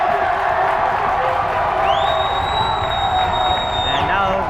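Fans at a high school girls' basketball game make noise in the gym, with a loud crowd roar and a sustained whoop or whistle rising over the din.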